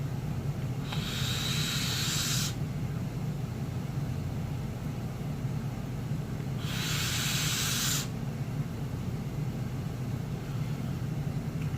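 Airflow drawn through a Twisted Messes 24 Pro RDA vape with round wire at 152 watts, heard as two loud breathy hissing pulls of about two seconds each, separated by a pause over a steady low background hum.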